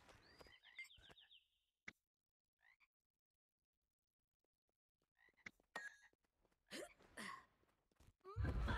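Frog croaks from the video game Guild Wars 2, a few short gulping calls early on, then a quiet gap and a cluster of louder croaks near the end, with no talk.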